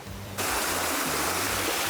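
Water at Rainbow Springs, a large natural spring in Marion County, Florida, rushes in a loud, dense, continuous roar that starts abruptly and holds steady, with no voices.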